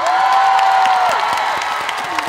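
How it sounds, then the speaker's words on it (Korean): Festival concert crowd at the Bonghwa sweetfish festival clapping and cheering steadily, a dense wash of applause with a sustained whistle-like tone over it, fading slightly toward the end. "마음에 드시는 박수 한번."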